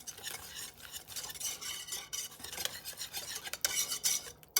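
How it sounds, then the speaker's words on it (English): A utensil stirs cocoa and salt into a Nanaimo bar mixture in a bowl, giving repeated scraping and rubbing strokes of uneven loudness, close up and with no talking. "And our salt, we can just add all 3. And just stir that all in"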